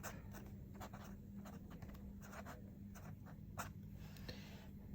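A fine Leonardo fountain pen nib scratching across paper in short strokes and brief pauses, soft and close, with a faint steady background hum and no voices.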